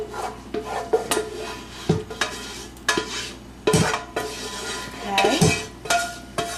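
Cooked pasta being stirred in a large pot, a series of close, scraping, rubbing strokes of a spoon against the metal, irregular in rhythm with brief pauses between.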